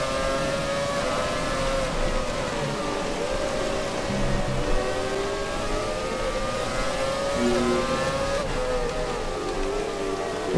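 An F1 race car engine in a racing video game screams at high revs during an Italian Grand Prix, its whining pitch sweeping up and down through gear changes, loud and continuous without a break.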